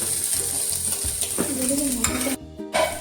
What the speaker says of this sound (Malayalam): ഇവിടെ സൈഡിൽ ഒരാൾ ചിക്കൻ സോട്ട് ചെയ്തുകൊണ്ടിരിക്കുകയാണ്.